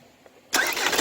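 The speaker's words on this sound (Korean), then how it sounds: "다시 끄고! 시동 걸어!" A 2013 Kia Grand Carnival diesel engine turns over and catches about halfway through, jumping from near silence to a loud, rough running rumble right at the end.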